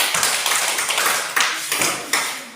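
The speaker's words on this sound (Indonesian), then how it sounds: "Baik, terima kasih. Berikan tepuk tangan." Applause in a classroom: a few hands clapping at close range in quick, uneven taps, thin and sparse rather than a full ovation, with a handful of sharper accents.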